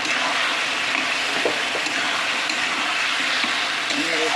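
Chopped tomato sautéing with jackfruit curry in a pan, a loud, steady close sizzle with light stirring scrapes throughout.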